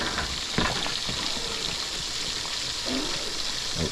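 A pot of Guyanese metemgee being stirred, a thick, wet bubbling and sloshing with a couple of spoon knocks against the pot, near and steady.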